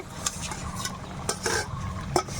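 A fried egg goes into a pan of boiling potato gravy, with a close spoon stir, a few light clinks and bursts of bubbling sizzle over a steady simmer.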